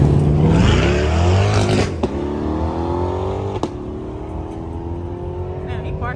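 Several cars at a Mopar car meet in Atlanta rev and idle close by, a loud engine drone with rising rev sweeps and a couple of sharp pops, people talking underneath.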